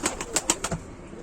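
A male tumbler pigeon, about two or three years old and caught as a stray, flaps its wings in a quick burst of several close, sharp beats that fade out after a second.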